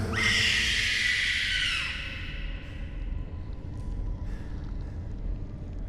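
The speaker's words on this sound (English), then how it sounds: "Freaking shriek again." A creature in the sci-fi horror game Stasis lets out a piercing, high shriek that starts loud and fades within about two seconds into a low, murky ambient hum with faint distant squeals.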